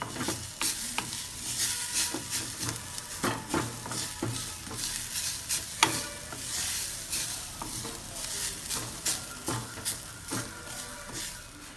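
Cauliflower kuruma masala ingredients being sautéed in a pan over moderate heat, a soft sizzle under repeated scraping and stirring strokes of a spoon, close up, with no speech.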